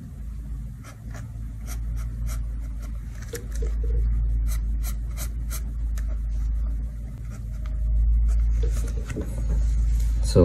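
A pencil scratches across paper in quick, brisk gesture-drawing strokes, a series of close, dry scribbles and taps over a low steady background hum.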